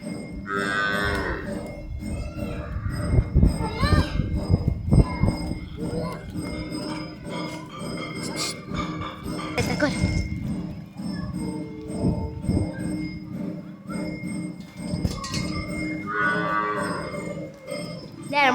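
Water buffalo moo repeatedly, loud and close, with low drawn-out calls over farmyard noise and a faint clink of metal during milking.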